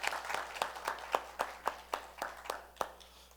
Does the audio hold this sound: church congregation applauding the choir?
yes